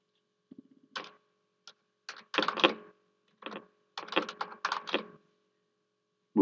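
Typing on a computer keyboard to enter an applicant's name into an office booking system: bursts of quick, close clicking keystrokes in short runs separated by brief pauses, with no talking.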